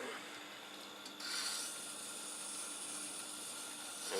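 A chisel being ground and sharpened on a grinder, moved backwards and forwards, gives a steady faint rasping hiss with a slight rise in intensity partway through, continuous and close, with no talking.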